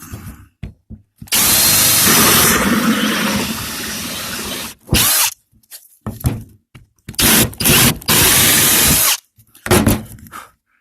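A power drill roars in long bursts, biting through plywood, then stops and restarts in shorter runs with brief pauses between.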